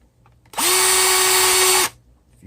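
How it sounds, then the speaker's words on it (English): A power drill bores a hole in an Amac plastic box, one steady high whine lasting just over a second, loud and close, starting and stopping sharply against a quiet room. "So you don't really have to put too much pressure. Just gotta do enough to drill the hole."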